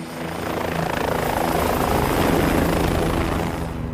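A helicopter flies near a volcano, its steady rotor and engine roar loud and close, holding continuously throughout without speech.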